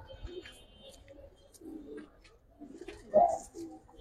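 Giribaz highflyer pigeons coo in a few low, murmuring bursts, with one louder coo near the end over a quiet background.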